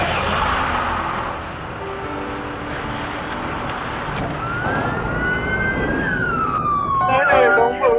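An ambulance siren wails up and down, growing louder as it approaches, then yelps rapidly near the end over a rumbling background.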